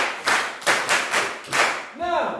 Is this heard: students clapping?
yes